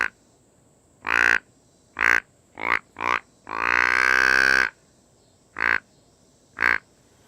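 Hand-blown deer grunt call imitating a buck: a series of short, close, croaking grunts in an uneven rhythm, with one long drawn-out grunt in the middle, alone without talk.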